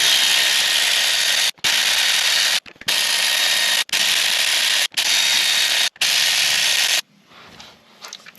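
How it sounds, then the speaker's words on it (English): A Milwaukee Fuel cordless ratchet works on the clutch of a 2006 Suzuki GSX-R 600, giving six loud, close whirring bursts separated by brief pauses, then quieter rattling handling. "get you one of these Milwaukee fuel ratchets"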